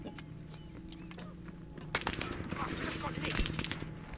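Video game gunfire: a sparse shot or two, then dense rapid machine-gun bursts that crackle loudly over the second half.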